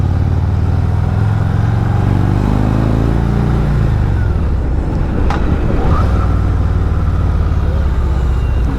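A Harley-Davidson Road Glide engine rumbles while the bike is ridden, a loud low drone that shifts pitch as it revs, half-buried under heavy rushing wind noise.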